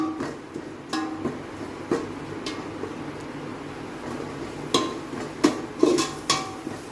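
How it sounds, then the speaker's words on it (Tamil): Chicken biryani masala being stirred and sautéed in a pot at home, a spoon clinking and scraping against metal in scattered knocks, a few sharper clanks near the end, over a quiet background hum. "அதையும் மெதுவாக மிக்ஸ் பண்ணிட்டுருங்க, வதக்கிட்டே இருங்க, கருகிடக்கூடாது"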